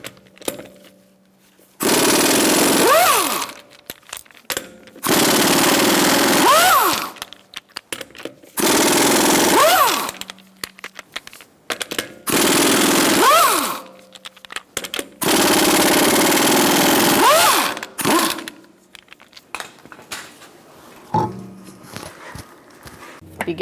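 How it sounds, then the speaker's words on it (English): An impact wrench on a 19mm socket works the wheel lug nuts off a 2012-2018 Ford Focus 2.0L, sounding as five loud, close bursts of rattling hammering separated by short pauses and small clinks. "Using a 19mm socket, we're going to remove our wheel."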